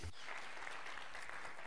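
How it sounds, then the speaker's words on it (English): A gala audience gives the Bester Quartet a dense round of applause that holds evenly for the whole stretch, fairly quiet and with no voice over it. "Bester Quartet, a round of applause."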